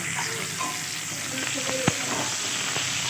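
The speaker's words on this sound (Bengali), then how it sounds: "একটুখানি হলুদ দিয়ে সামান্য মাথাটাকে আমি ভেজে নেবো" A hilsa fish head fries in hot oil with turmeric, giving an even, continuous close sizzle with faint crackles and one brief utensil knock partway through.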